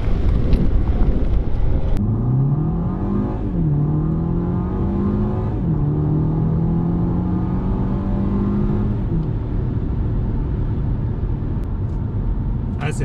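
A BMW M135i engine revs up through several gears, pitch rising and dropping at each shift, heard loudly from inside the cabin.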